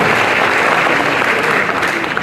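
Steady, dense applause from an audience at an award and felicitation ceremony, loud and continuous throughout without a break.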